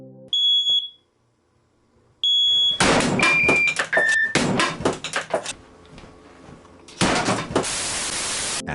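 Smoke detector chirps, a couple of short, high electronic beeps in quiet surroundings, followed by loud clattering, knocking and banging noises.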